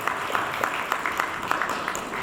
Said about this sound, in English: you ought to give a round of applause to yourselves